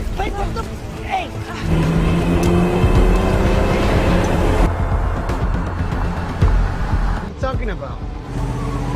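Car chase from the film Peppermint: a steady car engine roar with revving and passing vehicle noise, loud and continuous, mixed with dramatic film sound and voices.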